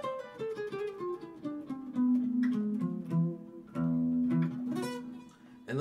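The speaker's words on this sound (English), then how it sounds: "There is a scale that you can play over E called a Phrygian dominant, and it sounds like this." An E Phrygian dominant scale played on an acoustic guitar, a run of single plucked notes stepping through the scale with a few strummed accents. The playing is soft and close-up, with no voices.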